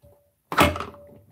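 An electric stand mixer's bowl is pulled free with one sharp clunk, followed by a short fading rattle, while a faint steady tone hums before and after.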